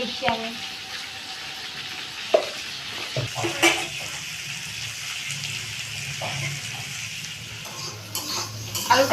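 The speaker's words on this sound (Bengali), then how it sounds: "সিদ্ধ করে রেখেছিলাম এবার আলুগুলোকে ভেজে নেবো আলুটা" Boiled potatoes frying in a home kitchen pan, giving a steady soft sizzle with occasional stirring clinks and scrapes, moderately close, with brief faint background sounds and no clear talk.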